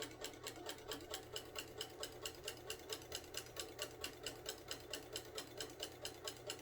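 A sewing machine stitches a rag quilt with a fast, steady run of needle strokes, running continuously at close range with no talking.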